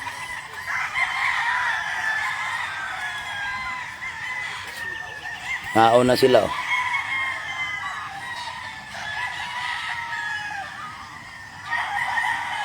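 Chickens cluck steadily while roosters crow over them, with a louder close crow near the middle and another near the end, and a few words spoken against the farmyard din.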